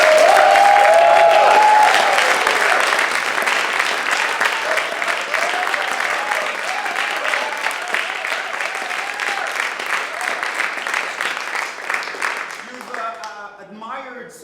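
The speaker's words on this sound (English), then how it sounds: "Give another gigantic round of applause for our two musicians" A theatre festival audience gives sustained, loud applause for two musicians, steady clapping lasting over ten seconds with some cheering early on, before a voice starts speaking as it dies down.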